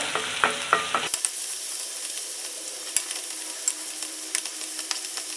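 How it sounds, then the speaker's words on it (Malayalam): Onions and green chillies sautéing in a pan for a brinjal curry, with a dense, continuous close sizzle and light clicks from the stirring spoon throughout. "ഇപ്പം നമ്മുടെ സവാളയും പച്ചമുളകൊക്കെ നന്നായിട്ട് വഴന്ന് വന്നിട്ടുണ്ട്"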